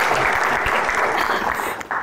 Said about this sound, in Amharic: እሺ አጨብጭቡላችሁ